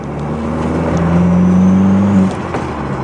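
A Mk4 Jetta 2.0 turbo with a manual clutch driven from inside the cabin, its engine droning steadily and rising slightly in pitch under light throttle before easing off, loud and close.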